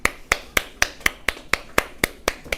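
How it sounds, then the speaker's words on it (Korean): Hands clap sharply about ten times in a steady, even rhythm during a math lesson, each clap crisp and close with short silent gaps between them and no talking. "박수 한번 칩니다."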